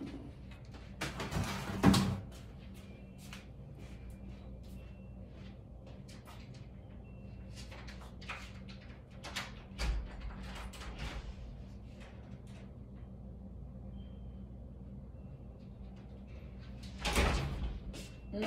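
A door opening and closing indoors: a few distinct knocks and thuds spread over a quiet stretch, with faint low rumble in between and one louder bang near the end.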